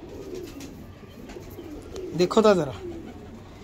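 Desi pigeons coo close by in a loud burst of layered, throaty calls that stand out over steady background noise, with someone speaking briefly in the clip.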